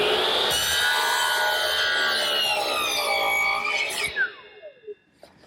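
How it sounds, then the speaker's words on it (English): A hand saw cuts through wide crown molding set upside down in a miter box, a loud, continuous rasping stroke that ends with a few clattering knocks as the cut finishes. "The cut that I just made was across the face of the molding."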